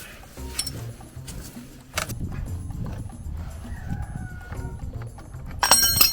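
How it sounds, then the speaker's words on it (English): Several roosters crow at a distance over a busy outdoor backdrop of clucking and shuffling, with a louder burst near the end. "Cockerels are pretty lively this morning."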